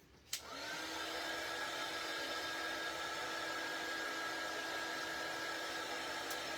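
A hair dryer drying paint on a wooden star-shaped Santa ornament starts with a click and then blows in a steady, even whoosh at close range, without talk.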